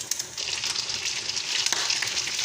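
Meat with onion and red and green peppers sizzles steadily in a pan while being stirred, a continuous close frying hiss with small scraping clicks throughout.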